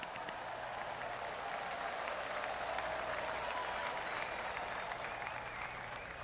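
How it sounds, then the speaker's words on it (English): Polite golf clap from the gallery crowd at the Open Championship in PGA Tour 2K25, a steady, fairly quiet wash of clapping lasting several seconds. "That deserves a golf clap."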